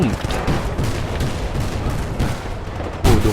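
Gunfire in the video game Battlefield Bad Company 2, dense rattling shots and booms through the whole stretch with a louder burst near the end, mixed under a voice.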